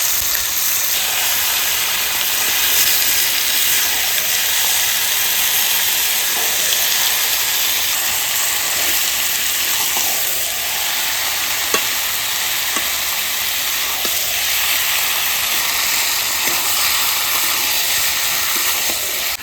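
Goat meat sizzles loudly in spiced oil in a wok, a continuous close hiss and crackle lasting throughout, with occasional faint ticks of stirring.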